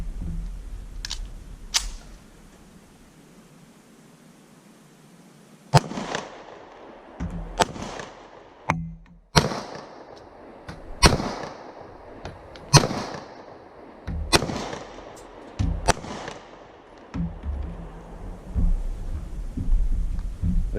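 A German Luger 7.65mm Parabellum pistol fired outdoors at a target: after a quiet start, about a dozen loud, sharp reports ring out at irregular intervals, each with a brief echo tail, some faint clicks early on.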